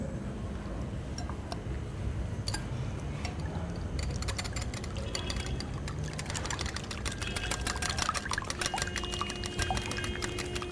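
Milk poured a little at a time into a bowl for egg wash, a soft steady liquid trickle with light clinks of the container, over a constant mechanical hum in a kitchen.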